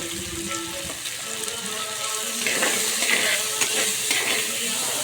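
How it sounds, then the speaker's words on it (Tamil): Tomatoes sauté in a pan for a fish curry, giving a steady sizzle and frying hiss with occasional stirring scrapes throughout, with no talking. "தக்காளி நல்லா வதங்கணும்"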